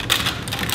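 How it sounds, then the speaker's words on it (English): Brown sugar sprinkled by hand over the bottom of a cake pan for a pineapple upside-down cake, a soft, continuous granular patter that stays close and fairly even for under a second. "brown sugar. We're going to just sprinkle it over the whole bottom."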